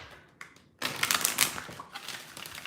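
A stack of large, oversized oracle cards is shuffled close by, giving a dense run of rapid papery riffles and taps after a few softer handling sounds, with no voices over it.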